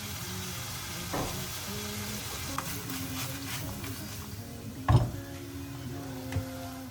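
Keema sizzles faintly as it fries in a pan, with a low, steady hiss broken by a few soft clinks and one louder knock of a utensil.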